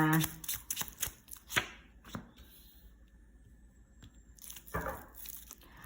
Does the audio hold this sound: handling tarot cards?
yes